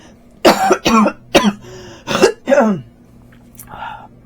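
A person coughs in a series of harsh, close bursts, several in quick succession with short pauses, followed by a softer throat sound.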